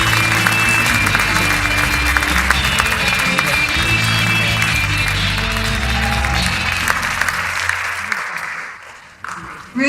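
Sustained audience applause at an awards ceremony, dense and loud, with a crowd clapping steadily before it fades out near the end.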